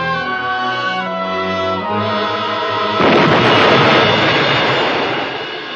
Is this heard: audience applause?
no